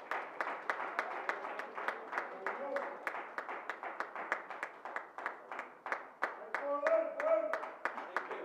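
An audience claps for high-achieving scholars at a Hispanic Heritage Month celebration, a steady run of sharp hand claps from a modest crowd, close and fairly quiet, with voices murmuring underneath.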